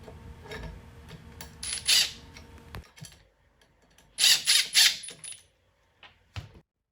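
A C7 locking nut is tightened onto a rod of a KICK Majesty 55-inch folding foosball table, giving short bursts of metallic ratcheting and scraping, with a few clicks and pauses between them, close and alone.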